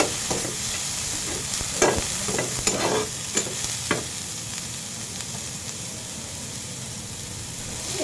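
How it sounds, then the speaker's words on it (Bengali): Onion frying in a pan, a steady sizzle with several scraping stirs and clatters early on, then continuous even frying. "আমি এটা একটু পেঁয়াজ ভাইজা নেই"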